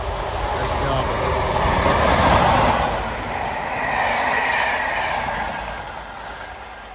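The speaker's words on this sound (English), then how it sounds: "Edinburgh Plymouth high-speed train, cross-country service." A Cross Country high-speed train on the Edinburgh–Plymouth service passes near Ambergate, a loud, steady rushing roar that swells, eases and swells again before fading over about seven seconds.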